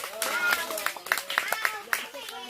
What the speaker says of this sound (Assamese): বাবুৰ কাৰণে এটা হাত চাপৰি